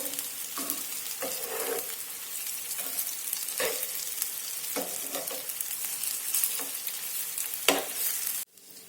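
Crisp cabbage snack frying in a shallow pan with a little oil, a constant sizzle punctuated by occasional spatula scrapes and taps, ending abruptly.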